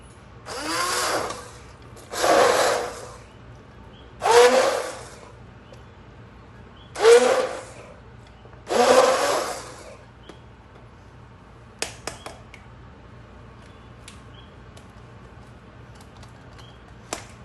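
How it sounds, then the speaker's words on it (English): A hand mixer grinds vegetables for sai bhaji in five short, loud bursts about two seconds apart, each a roughly one-second whir. A few faint clicks follow in an otherwise quiet kitchen. "Now we'll grind it with the hand mixer."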